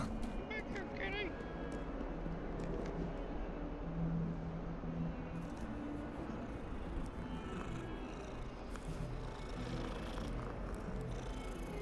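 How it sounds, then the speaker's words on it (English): A cat purrs in the video game Hogwarts Legacy, a soft continuous rumble heard up close and quiet, with a few faint game sounds over it. "Kitty! Back here, kitty!"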